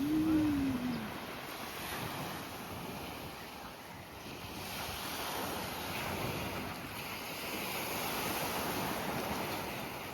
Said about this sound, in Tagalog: Ayan ang dagat kung inyong matatanaw.